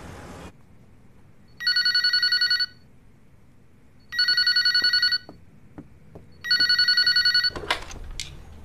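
A telephone rings in three loud, evenly spaced bursts of trilling electronic tone, with quiet gaps between them and a few soft knocks and clicks. No one speaks.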